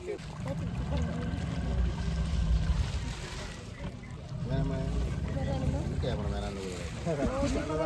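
A boat's engine drones steadily on the water while people talk nearby.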